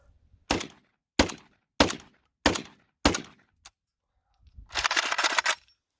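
Winchester Expert high-velocity steel shot fired from an AK-12 shotgun, five loud sharp shots at a steady rhythm about two-thirds of a second apart, then a brief click and a longer rustling clatter.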